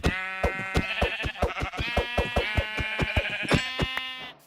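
Repeated sheep bleats from Minecraft, a run of wavering nasal baa calls following one another with no gaps, close and clear with no talking.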